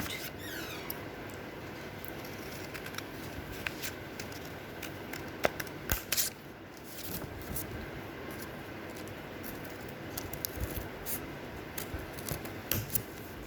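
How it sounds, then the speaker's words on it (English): Scissors snip through a paper card for a handmade shirt-shaped card, a run of close, crisp cuts and rustles over about thirteen seconds with brief louder clicks, no talk. "Now we will cut this card."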